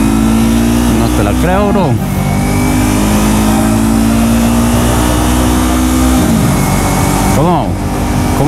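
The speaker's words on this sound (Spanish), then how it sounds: "Más dos motociclistas" Two motorcycles pass close by with engines revving, their rising and falling pitch sweeping past twice over loud traffic, while people talk over the noise.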